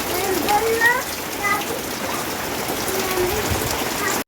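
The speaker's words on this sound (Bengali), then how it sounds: "কতটা জোরে বৃষ্টি পড়ছে দেখে বুঝতেই তো পারলেন" Heavy rain pouring down outdoors, a dense continuous patter and hiss of drops on surfaces, fairly close and steady throughout.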